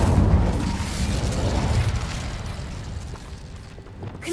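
A fire spell cast as Incendio in the video game Hogwarts Legacy, a loud whooshing burst of flame at the start that rumbles and fades over a few seconds, heard alone.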